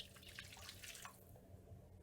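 Hot water poured from a kettle into a pan to make gravy for roast chicken, a steady close splashing pour that thins out after about a second into a quieter trickle, with no talking.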